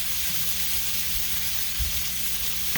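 Apple pieces fry in a hot skillet for Southern fried apples, giving a steady close sizzle with a few soft bumps as the fruit shifts in the pan.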